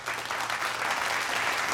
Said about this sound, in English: Let's give her a round of applause for being this brave soul